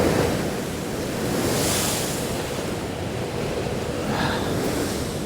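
Rough sea waves surging and breaking along the shore at Sandsend, a steady broadband wash of surf with wind buffeting the microphone, loud and close throughout with no voices.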